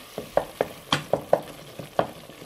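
Food frying in a pan with a little water added, crackling and spitting in sharp, irregular pops over a low sizzle, close up with no talking.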